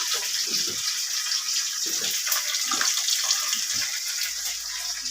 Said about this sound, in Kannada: ಇಲ್ಲಿ ನೋಡಿ ಕರಿಬೇವಿನ ಸೊಪ್ಪು ಹಾಕ್ತಾ ಇದ್ದೀನಿ